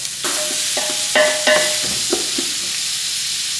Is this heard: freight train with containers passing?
no